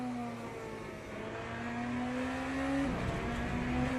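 Corvette race car in the Le Mans Ultimate sim racing game, its engine holding a steady tone that climbs slowly, then drops sharply near the end as if shifting gear, with no talk over it.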